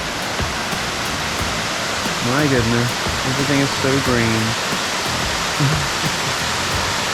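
Water falls steadily in the green jungle at Palenque, making a constant broadband rush. Someone talks briefly over the roar in the middle.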